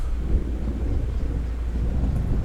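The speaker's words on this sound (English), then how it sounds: "Cue dramatic thunder." Low, steady thunder rumble from the video game Gone Home, a continuous deep roll with no talk over it, holding at moderate loudness for a couple of seconds.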